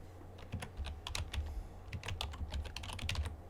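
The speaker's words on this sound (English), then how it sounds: "Type out Michael Jordan." Text typed on a computer keyboard, a quick irregular run of close, crisp key clicks over a low steady hum.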